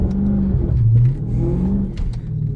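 A Dodge Challenger/Charger Daytona 392 launching on launch control set at 3300 RPM, its engine revving hard as the tires spin like a burnout, loud and close, a steady engine roar throughout with no talking.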